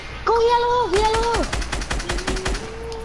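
Game gunfire from a kid's weapon in a shooter match: a quick burst of sharp repeated shots over about a second and a half, mixed with in-game tones and chatter from players talking.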